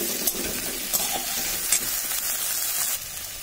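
Okra dropped into onions browning in hot oil gives a loud, steady sizzle with a few short stirring scrapes and clatters across the pan, and no voices.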